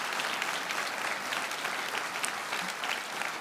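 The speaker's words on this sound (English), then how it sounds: "let us give a big hand of applause to this year's Moon Prize winner, Dr. John Small" A hall audience claps steadily for the Moon Prize winner, Dr. John Small, at a university award ceremony. The applause is dense and sustained at an even level throughout.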